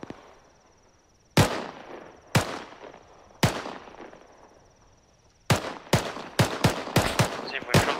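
Heavy gunfire in the military video game ARMA: a few widely spaced loud shots early on, then a rapid ragged burst of close, sharp reports toward the end, with no talking.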